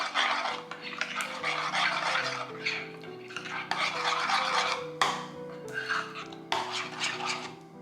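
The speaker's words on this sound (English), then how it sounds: "I'm gonna mix everything." A spoon stirs Thai peanut sauce in a bowl, with repeated scraping and clinking strokes at close range over soft background music.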